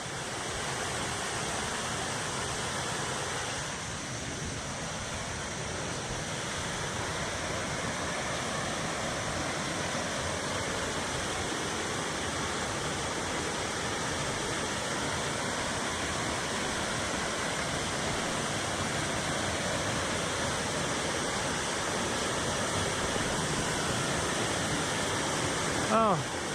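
A waterfall at Phu Soi Dao National Park roars as a broad, constant rush of falling water, loud and steady from start to finish with no talk.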